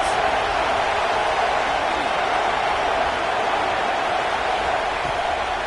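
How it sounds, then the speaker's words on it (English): Steady stadium crowd roar from a College Football 26 video game, a dense continuous wash of cheering that stays loud and even while the home defense holds the opponent deep in their own end. "this crowd trying to help keep them there"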